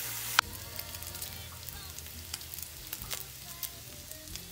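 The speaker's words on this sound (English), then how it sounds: "Listen to that sizzle." Bacon frying in a pan gives a steady, close sizzle with crackling pops throughout, after a sharp click at the start.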